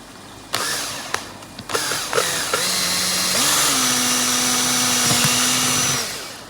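A cordless screwdriver drill bores two holes during fish-tank work on a crayfish farm. It gives a few short clicks and bursts, then a steady mid-pitched whine that rises in speed, runs for a few seconds close up and stops.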